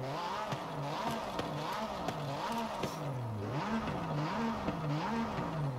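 Porsche 911 RSR race car in Forza Horizon 5, its engine howling through repeated rising and falling revs as it shifts gears, loud and close with sharp gearchange cracks between pulls.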